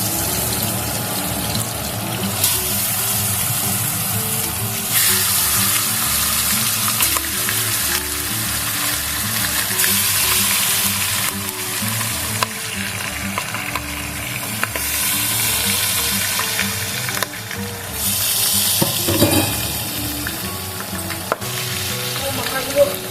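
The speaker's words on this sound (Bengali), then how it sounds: "তেলটা গরম হয়ে গেছে, এখন আমি মাছের মাথাগুলো ভেজে নেব।" Fish heads frying in hot oil for muri ghonto, a loud, continuous close sizzle with shifting bursts of spattering and occasional clatter, running without pause under a faint low hum.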